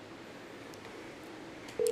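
A telephone call-back is dialed during a live show: a steady line tone starts abruptly near the end, after a low hiss with a few faint ticks.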